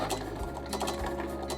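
A Cricut Explore 3 cutting machine cuts vinyl with a fine point blade, giving a steady close mechanical whir with quick rhythmic ticking carriage movements throughout.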